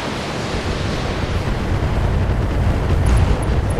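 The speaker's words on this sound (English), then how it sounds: "an ammo explosion" A mech's ammunition cooks off in the BattleTech video game, a loud, sustained rumbling blast of broadband roar that swells and holds steady over several seconds.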